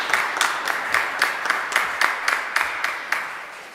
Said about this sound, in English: Give a big hand applause, everybody.